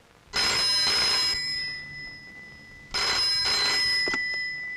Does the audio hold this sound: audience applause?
no